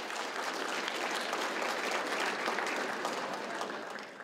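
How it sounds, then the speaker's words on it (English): Conference audience giving the hotel staff a round of applause, a broad, even burst of many hands clapping that holds steady and tapers slightly at the end. "let's give a round of applause here for the hotel staff"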